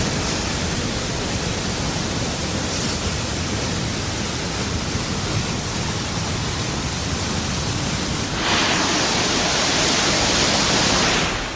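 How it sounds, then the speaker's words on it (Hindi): A flooded river in Jammu and Kashmir roars as a dense, unbroken wash of rushing water, loud and steady throughout with a slight swell near the end. "नदियां गर्जना भर रही हैं।"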